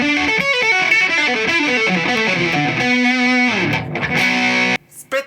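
Electric guitar through a sustain pedal, sustain fully up, tone at half, volume at a quarter; a loud, singing sequence of sustained notes, then a held chord that rings out and cuts off, with a short burst of sound after.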